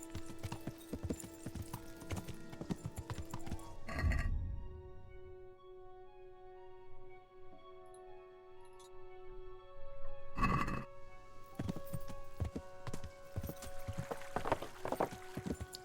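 Rhythmic hoof clip-clops from a horse in the game Kingdom Come, steady and moderately loud, broken by a couple of bursts of noise and lingering tones.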